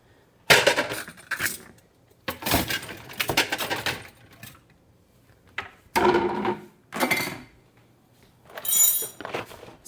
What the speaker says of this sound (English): I'm going to get my colander out